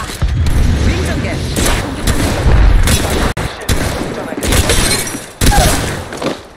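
Bursts of video game gunfire, heavy repeated shots and booming blasts in rapid clusters, loud and close, with brief gaps between volleys.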